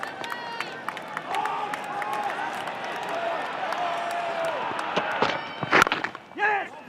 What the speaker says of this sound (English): The Aussies in their yellow shirts are out of their seats, cheering every run now